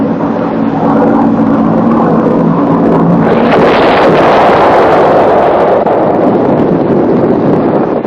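A cartoon racing boat's engine roars steadily and loudly, rising into a louder rushing surge partway through, with no talking.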